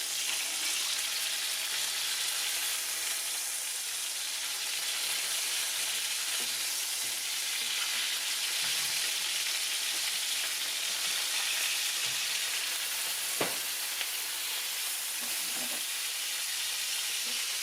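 Food sizzles and fries steadily in a pan after being turned over, a continuous close hiss with a few faint clicks and one sharp utensil tap.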